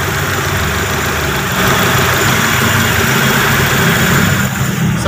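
A car engine idles steadily right after being started through a newly wired starter relay, running loud and close with an even, continuous rumble and no talking.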